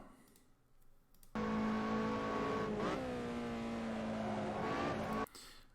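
Lotus Elise SC lapping Silverstone in Assetto Corsa, engine droning at steady high revs with a tonal shift as the rear slides out and tires scrub mid-corner, loud and continuous before cutting off, no voices.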